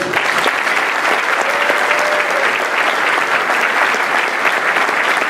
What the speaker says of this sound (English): can we get one more round of applause for our graduates?